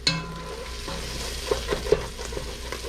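Food fries for chicken biryani in a pan under a low steady sizzle, broken by several light scraping taps of a spoon stirring and working across the bottom of the pan.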